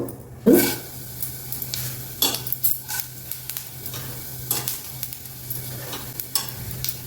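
Chana dal and urad dal hit hot oil in a kadai for tempering, giving a sudden loud sizzle at first, then a steady crackling fry with scattered spoon clinks and stirring taps against the pan.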